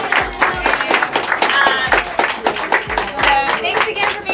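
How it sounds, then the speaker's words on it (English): A tour group bursts into applause, dense clapping from many hands going steadily for the full stretch, close and loud, with some voices mixed in. "And can we all give a round of applause to Avis and Kelly?"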